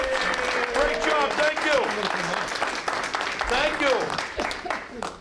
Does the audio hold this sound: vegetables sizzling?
no